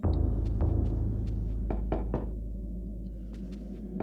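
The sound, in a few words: knocking on wine casks in video game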